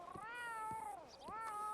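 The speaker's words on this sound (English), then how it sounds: "Hey there, cat." A cat meows twice in Red Dead Redemption 2, two clear drawn-out meows close by, quiet and without talk.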